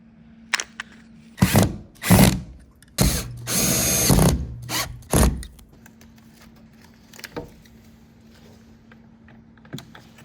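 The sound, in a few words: power drill drilling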